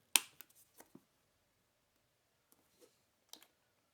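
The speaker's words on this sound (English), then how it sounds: "So you can hear the motor clicking away." The small motor of a Baiwka automatic watch winder clicks faintly in a sparse, irregular series of soft ticks separated by quiet gaps, running on weak rechargeable batteries.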